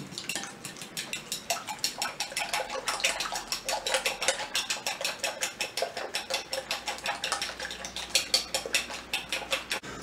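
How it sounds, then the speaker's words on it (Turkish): Fork whisking an egg and parsley mixture in a bowl, a steady fast rhythm of light clinking and sloshing strokes, close and continuous with no talk. "Ve arkadaşlar bir çatal yardımıyla güzelce çırpıyoruz."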